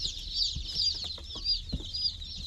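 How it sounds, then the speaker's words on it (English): A brood of newly arrived chicks peeps in a continuous high, chirping chorus, close by, with a few low thumps of handling underneath. "Come on, chickens."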